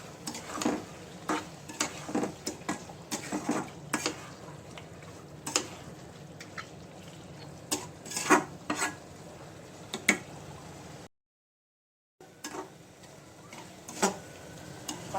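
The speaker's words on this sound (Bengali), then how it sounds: "মশলা কষানো শেষ, এখন আমি ট্যাংরা মাছগুলো দিয়ে দিচ্ছি।" Fresh tengra fish frying in cooked spice masala in a pan, with a low steady sizzle under repeated sharp scraping and stirring clatter of a spatula against the pan, briefly cut out once midway.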